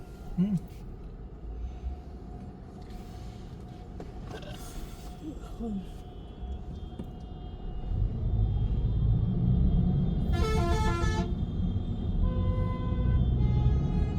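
A car horn sounds a short honk amid heavy traffic in Bursa, with engine rumble rising and a steady low drone of vehicles throughout while people talk.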